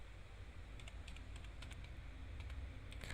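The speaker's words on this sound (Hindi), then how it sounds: "नरेशन एक टाइप करना होगा" Quiet keystrokes on a computer keyboard while entering a purchase voucher narration in Tally ERP 9 accounting software, short clusters of soft clicks over a low steady hum, no talking.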